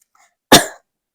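A single sharp cough bursting out of a laugh, close and loud, lasting about a quarter second before cutting off, with only faint murmurs beforehand.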